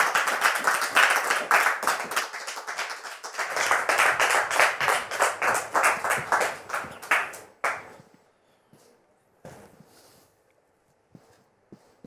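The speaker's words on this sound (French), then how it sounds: "Merci de le recevoir sous vos applaudissements." Audience applause for a guest stepping onto a French talk-show stage, dense and sustained for about seven seconds before cutting off into near silence with a few faint stray claps.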